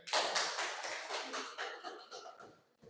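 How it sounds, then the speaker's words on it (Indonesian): Classroom applause for student group 3: a burst of clapping and tapping hands from a class, fairly close, fading in and out over a few seconds with no talking. "Berikan aplaus dulu untuk"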